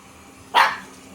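A single sharp dog bark, close and fairly loud, a short burst that fades quickly into a quiet indoor room with no talking.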